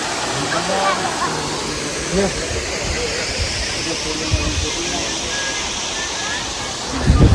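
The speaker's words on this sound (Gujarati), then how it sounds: "આ બાજુથી ડેમનું પાણી બધું આવે છે" Dam water rushes past near a Khodiyar temple at Galdhara, making a loud, steady roar like a waterfall. Voices talk faintly underneath.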